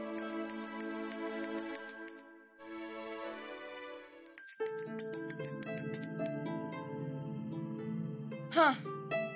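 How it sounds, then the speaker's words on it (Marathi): A small hand bell rings indoors, sounding several bright, sustained tinkling peals: first a run of ringing, a short pause, then a second burst that carries on to the end. It is loud and close, with faint background activity. "म्हणजे जर यांना काही हवं असेल, काही विचारायचं असेल ना, तर मग हे घंटा वाजवणार"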